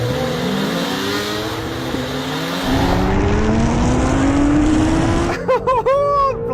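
A Honda NSX with a hybrid mid-mounted twin-turbo 3.5-litre V6 accelerates hard in a drag race against a Honda Fireblade motorcycle, a loud, steadily climbing engine roar that ends with a burst of sharp revving, no talk over it.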